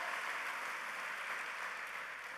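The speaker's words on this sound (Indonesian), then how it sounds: "Tepuk tangannya yang paling meriah buat Tuhan kita" Church congregation applauding together at a worship service, a steady, dense wash of clapping that holds evenly throughout with no voices over it.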